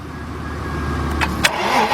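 A 1997 Mercedes-Benz E320 with a cranks-but-won't-start fault, its starter churning steadily up close for two seconds, with faint clicks near the end and the engine never catching.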